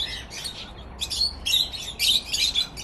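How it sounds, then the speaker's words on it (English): Several budgies chirp and twitter in an aviary in bursts of high, bright calls, fairly close, over a low steady background hum. "I think there's a few budgies in there."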